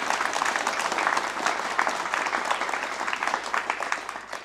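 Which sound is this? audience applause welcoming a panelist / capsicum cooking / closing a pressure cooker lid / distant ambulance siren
audience applause welcoming a panelist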